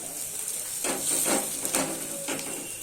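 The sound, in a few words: sautéing masala for fish curry in a pan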